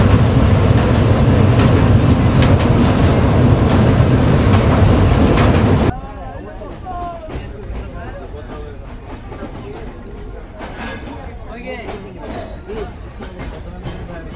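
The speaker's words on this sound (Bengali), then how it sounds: "রেল ক্রসিং পার হয়ে আমরা পৌঁছে যাচ্ছি দিনাজপুর রেল স্টেশনে" The Drutojan Express train on the Panchagarh–Dhaka route crosses a rail crossing near Dinajpur, a loud dense roar of wheels and carriages for six seconds, then dropping to a quieter rumble with faint rattling clatter.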